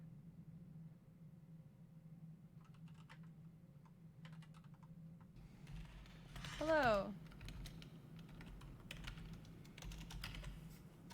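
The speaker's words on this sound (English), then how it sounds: "Furiously typing." Fast typing on a computer keyboard, a steady stream of soft clicks behind a low hum, with someone briefly speaking and a short burst of louder sound midway.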